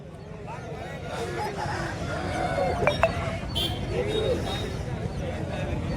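Chickens and roosters at a busy open-air hen market in Kothagudem, clucks and a couple of short sharp calls rising over a crowd murmur while people talk nearby.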